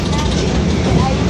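Heavy Interstate 30 highway traffic beside an amusement park, a loud, continuous, low roar of engines and tires with no breaks.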